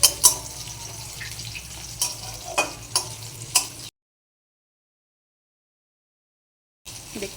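Chopped onions crackle and hiss in a hot pan as they brown, with several spoon knocks during stirring, then the sound cuts out completely for about three seconds before the sizzling resumes.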